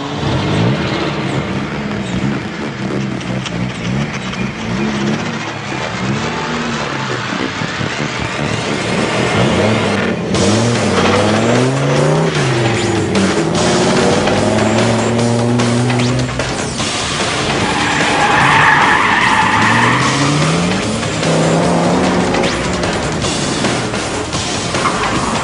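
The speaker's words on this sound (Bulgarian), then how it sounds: "Това означава, че колата се подкарва без сцепление," A drift race car slides without grip, its engine revving and rising and falling in pitch with tyre noise, loud and close throughout with no talk.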